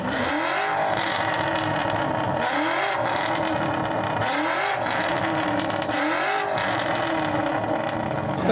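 A Porsche sports car engine roars loudly and steadily at a street car takeover, with several repeated swelling rev cycles rising and falling under constant crowd and exhaust noise.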